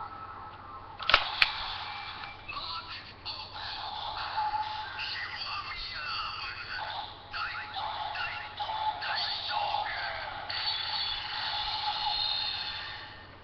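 A DX Kiwami lockseed toy plays its pause sound effect, an electronic, buzzy tune with a click at the start, quiet and fairly thin, continuing steadily for several seconds over faint background hiss.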